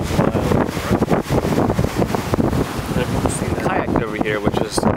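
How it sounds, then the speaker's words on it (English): Wind buffets the microphone while kayaking off Kailua, Hawaii, a loud constant roar with splashes of water and a voice speaking through it. "The wind's blowing."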